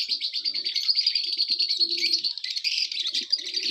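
Pomeranian breeder pigeons in an aviary, with about ten pairs and some young birds present, keep up a dense, continuous chatter of close chirps and tweets, with low cooing murmurs breaking in underneath.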